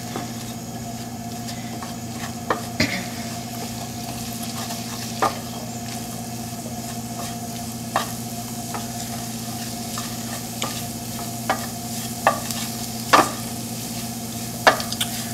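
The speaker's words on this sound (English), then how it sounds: "sprinkle our flour over the vegetables. Start to stir that around." A spoon stirs flour into softened vegetables in a pot for old-fashioned chicken stew, with periodic scraping strokes over a steady low hum and faint sizzle, fairly close and without talk.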